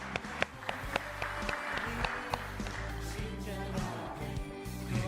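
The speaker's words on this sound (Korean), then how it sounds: "우리 박수하면서 하나님께 영광을 함께 돌리도록 하겠습니다." Congregation applause during a Sunday morning service at Daegu Seomunro Church, a soft, moderate patter of clapping with a few sharper claps over a steady low room hum.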